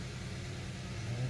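An engine from a 2007 Mercedes-Benz running just after starting following a transmission replacement, a low steady rumble, faint and even throughout the short stretch.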